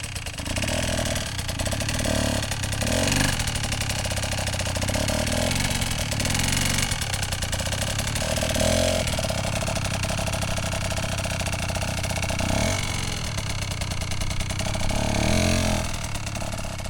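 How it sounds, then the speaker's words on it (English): A Suzuki DRZ adventure motorcycle engine runs just above idle during slow riding practice, a steady, close, rumbling drone that rises and dips slightly throughout with no talk. "listen to the engine revs. Revs be just up above idle."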